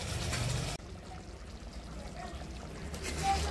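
Water poured into a pan of egg curry as a loud, brief gush that cuts off abruptly, leaving quieter background sound afterward.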